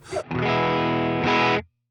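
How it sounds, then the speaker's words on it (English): An electric guitar chord rings out through the Line 6 POD Express Litigator amp model with a crisp, driven tone, sustaining loudly for over a second after a short pick attack before cutting off. "That's a Line 6 original. It's the Litigator model from the Helix."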